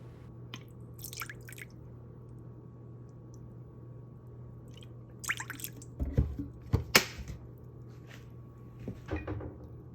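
Soy sauce is measured by the tablespoon and poured for a kara-age brine, heard as a few small splashes and drips near the microphone, with light clinks amid a quiet background hum.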